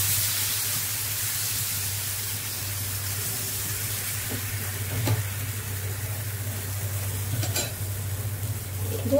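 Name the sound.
thin tomato omelette batter frying in a pan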